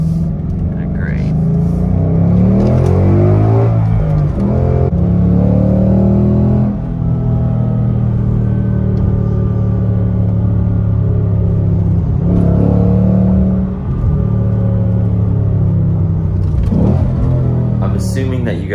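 A Ford Mustang GT S550 with its Coyote V8 revs repeatedly, deep loud rumbling swells rising and falling in several long pulls, with someone talking over the engine throughout.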